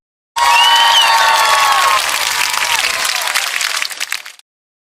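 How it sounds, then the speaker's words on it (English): A crowd cheers and applauds loudly in a dense, continuous burst of clapping and whoops that starts abruptly, holds steady for about four seconds, then cuts off. "and the animals started to cheer."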